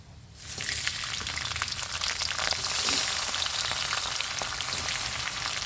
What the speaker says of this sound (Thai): ขั้นตอนต่อไปผัดกุ้งเลยจ้า